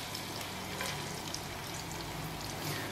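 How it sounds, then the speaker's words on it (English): Garlic, cloves and shallots fry in bubbling butter for tripe à la mode de Caen, a steady close sizzle and hiss running without a break and with no voices. "I'm going to add the garlic, cloves, and shallots, and I'll fry those for a few minutes"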